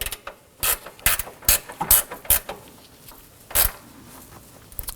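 A hand ratchet snugs down radiator bolts on a 2018-2024 Toyota Camry with the 2.5L four-cylinder engine, giving close, sharp bursts of rapid clicking in short, uneven strokes with brief pauses between.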